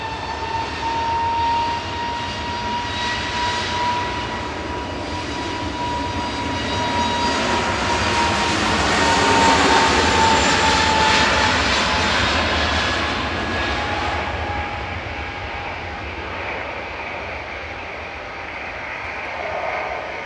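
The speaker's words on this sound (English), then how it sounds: "Got our first noisy prop coming in from the Isle of Man" A propeller aircraft engine drones steadily at an airport, growing louder as it passes overhead and then slowly fading, with no voices.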